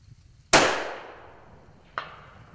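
A custom Rocky Mountain rifle fires a single sharp, loud shot at an outdoor long-range setting of about 385 yards. The blast decays slowly, and a fainter crack follows about a second and a half later.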